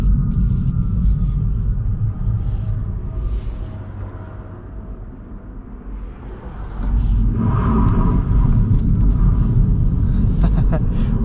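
A 2022 MINI Cooper SE two-door electric hardtop pulls away hard in sport mode with traction control off, tires briefly spinning; a loud, steady rumble of road and cabin noise eases slightly, then surges up again and holds.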